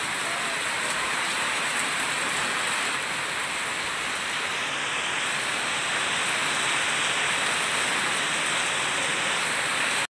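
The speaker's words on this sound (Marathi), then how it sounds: "पाऊस सुरू झालेला आहे." Steady rain pours down in a dense, even hiss that stays constant and fairly close throughout, with no voices and no breaks.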